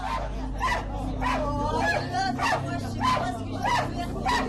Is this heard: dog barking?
yes